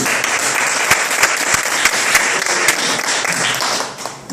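A church congregation claps together during a service, a loud, dense round of applause with sharp individual claps standing out, fading slightly at the very end.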